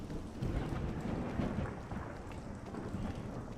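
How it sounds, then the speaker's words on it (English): Rolling thunder in the Skyrim video game, a low continuous rumble mixed with steady rain noise, broad and moderately loud without distinct cracks. "Yeah, there's the thunder."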